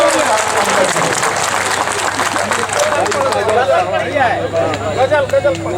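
An audience at an All India Mushaira poetry gathering in Siwan, Bihar claps loudly and steadily, the applause thinning as crowd chatter and voices take over.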